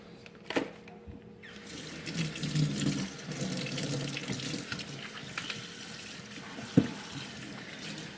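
Tap water runs into a kitchen sink to rinse a raw Thanksgiving turkey, a steady rushing splash with a few sharp knocks and clunks of handling near the start and end.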